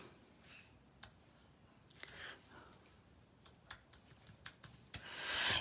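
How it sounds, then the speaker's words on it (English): Computer keyboard typing in a crafting software session, a run of quiet, uneven key clicks with short pauses, close and soft, with a few sharper taps near the end. "I'm going to type in the word"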